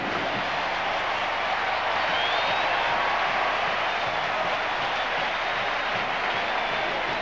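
A football stadium crowd at Berkeley roars steadily after a UCLA-California touchdown, a dense, loud, sustained wall of cheering with no breaks.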